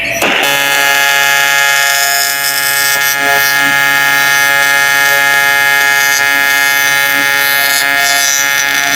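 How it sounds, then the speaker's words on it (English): A loud electronic beeper holds one steady, piercing tone without a break for the full nine seconds, with no voices over it. "That's a beeper."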